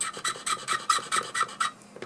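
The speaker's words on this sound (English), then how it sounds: "I'm going to actually just use a more aggressive abrasive to grind away some of the tipping material first" A coarse abrasive grinds the tipping material of a Platinum Preppy fountain pen nib, shaping it into a stub. Close, steady rasping strokes repeat in a quick back-and-forth rhythm, about a dozen in all, with no voices.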